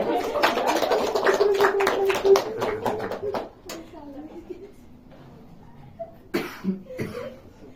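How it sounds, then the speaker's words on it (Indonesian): Schoolchildren clapping together in a classroom, a quick burst of hands that runs for about three and a half seconds and then stops, followed by a quieter stretch with a few coughs and scattered small noises. "Beri tepuk tangan."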